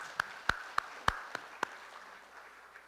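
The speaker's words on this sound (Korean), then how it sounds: "우리 박수로 하나님 앞에 영광 돌리겠습니다." A church congregation gives a short round of applause: about six separate claps in the first second and a half, then the hall goes quiet.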